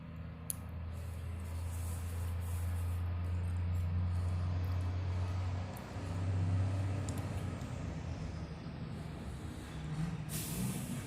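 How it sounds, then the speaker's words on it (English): Trash truck driving down a road, a steady low engine drone passing at moderate distance with hissing air brakes and a short swell near the middle, heard alone outdoors. "Trash truck."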